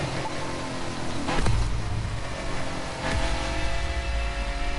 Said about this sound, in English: I'm letting it go right up to the rev limiter and then change gear, so you can hear the noise of that car so much better.